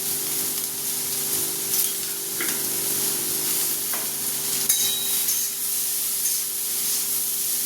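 Bitter gourd sizzling in hot oil with turmeric and salt, a steady close hiss running throughout with occasional soft scrapes and taps as it is stirred in the pan, no talking.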